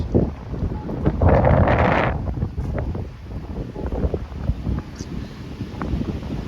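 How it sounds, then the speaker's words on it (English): Strong wind at an outdoor bus stop at George Mason University, gusts roaring and buffeting the microphone up close in uneven surges, with a louder gust early on. "I don't like windy weather."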